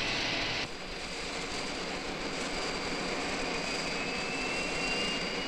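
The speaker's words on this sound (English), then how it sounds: "Sure, that plane travels 600 miles an hour." A jet airplane in flight gives a steady, broad roar that fills the whole stretch, with a faint whining tone slowly sliding in pitch.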